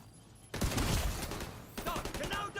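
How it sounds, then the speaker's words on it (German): Rapid automatic gunfire in The Division 2 crackles in two dense bursts, loud and close, with a short lull between them and some talk underneath. "Ich sorge für Feuerschutz."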